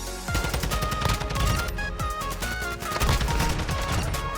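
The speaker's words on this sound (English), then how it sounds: "Fire the weapon, man." Rapid, dense gunfire from the video game Modern Warfare 2, with repeated sharp shots and bursts packed close together over a steady loud background of combat noise.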